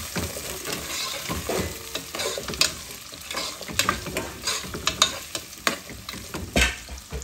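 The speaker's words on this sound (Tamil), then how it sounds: "இந்த நாலு பச்சை மிளகாய், இந்த இருந்த வெங்காயம், பூண்டு, கருவேப்பிலை இதை போட்டு நம்ம கொஞ்சம் வதக்கிக்கலாம்" Green chillies, onion, garlic and curry leaves sautéing in a pan for egg kuzhambu, close frying crackle punctuated by frequent sharp spatula stirs and scrapes, busy and uneven, with no voices.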